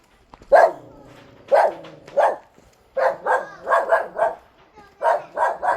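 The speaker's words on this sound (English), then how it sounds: "Almost got bit by a dog." A dog on a jungle trail toward a waterfall lets out a string of sharp, close barks in irregular bursts, some doubled, with short gaps between volleys.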